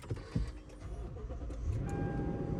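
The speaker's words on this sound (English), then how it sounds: "Foot on the brake, hit the start stop engine button." A 2013 Lexus GX460 with a low battery, started by its push button: a low, steady engine rumble settles in with a brief thump near the start, heard close up.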